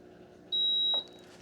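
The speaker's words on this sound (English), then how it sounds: "Just hold that power button down until it beeps." A cold plunge tub chiller gives a single clear electronic beep, about half a second long, as its power button is held down, in an otherwise quiet room.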